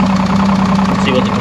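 An Evinrude E-TEC outboard engine idles steadily just after startup, a loud, continuous mid-pitched drone with slight vibration throughout.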